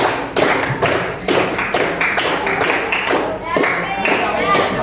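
A classroom of students claps a set pattern together, three claps and then seven. The sharp group claps are close and loud, with faint children's voices between them.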